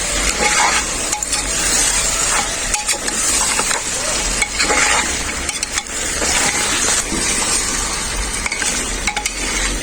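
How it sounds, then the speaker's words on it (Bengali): Mutton with a splash of rose water is stirred vigorously in a pressure cooker, a close, loud sizzle overlaid with repeated scraping and occasional metallic clinks of the spoon against the pot, without any talking. "আর একটু খুব ভালো করে নাড়াচাড়া করে নেব।"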